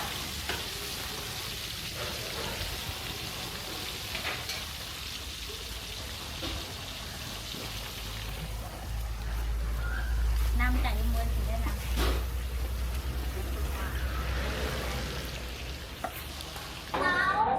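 Chicken sizzles and crackles steadily in hot oil as it turns golden and crispy, a continuous frying hiss with occasional stirring clatter, heard up close.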